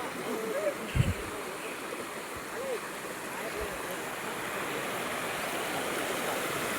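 Water sprays in a steady, continuous hiss while a carpet is washed, with a couple of soft thumps early on and a faint voice in the background.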